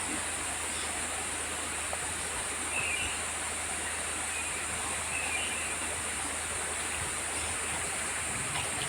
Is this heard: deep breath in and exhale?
no